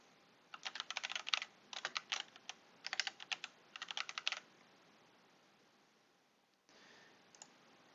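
Typing on a computer keyboard while filling in software setup information on Windows: four quick bursts of close, crisp key clicks with short pauses between, then quiet and a faint final click.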